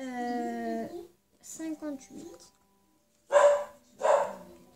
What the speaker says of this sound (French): désolé pour le bruit, c'est mon chien